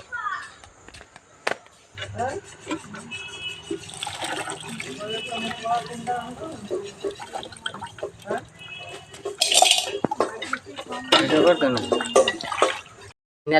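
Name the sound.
washing oranges in water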